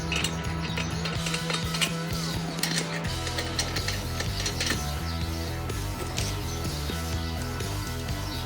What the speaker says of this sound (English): I use this little Ryobi driver because it doesn't have enough guts to hurt anything.